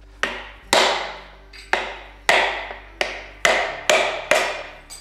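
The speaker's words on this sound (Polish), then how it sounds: "jak można młotkiem w tłok walić." A hammer strikes a piston from a 1977 Toyota Celica engine eight times, sharp ringing metallic hits at a steady, slightly uneven pace, each decaying quickly, close by, with a low hum beneath and no talking.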